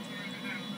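A steady airplane engine drone with a smooth, continuous hum and hiss, heard under a speaking voice, from a plane in the video game GTA 5.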